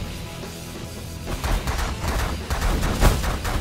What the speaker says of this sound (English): And that's one Giga Cannon firing in my name.